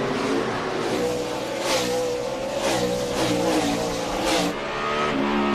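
A NASCAR stock car's V8 engine roars from onboard at Sonoma's road course, loud and continuous. Repeated throttle surges and revving swells rise and fall in a steady rhythm as the car accelerates through the turns.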